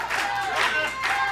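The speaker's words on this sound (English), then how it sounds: "Nobi clapping the hands, getting the crowd rallied behind him" Wrestling crowd at a Texas heavyweight title match, clapping and cheering in steady swelling waves that pulse roughly every half second, a dense, moderately loud mass of hands and voices with no single speaker standing out.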